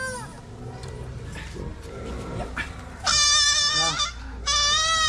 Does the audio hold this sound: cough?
no